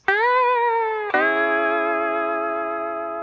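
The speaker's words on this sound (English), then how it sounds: "retired the steel licks that debuted in season 2 and replaced them with the hot steel and slide licks" Twangy steel-guitar slide licks used as SpongeBob music cues: two sustained, bright sliding notes, the second entering about a second in and ringing out with a slowly fading tail.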